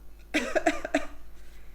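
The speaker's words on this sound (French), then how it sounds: "le deuxième geste barrière, c'est quand on doit éternuer ou bien tousser" A single short cough or sneeze burst, close and fairly loud, followed by a brief quiet tail.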